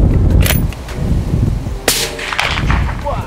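A firearm fires at a barrel target outdoors, with a sharp loud report near the start and another in the middle, each trailing off over background noise.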